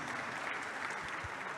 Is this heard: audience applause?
yes